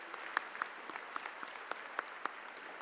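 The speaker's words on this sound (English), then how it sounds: "Please join me in giving a round of applause to the governing board of Morgan State University, our Board of Regents." Sparse, faint clapping from a university commencement audience at Morgan State, a handful of separate claps spread over a few seconds in a quiet hall.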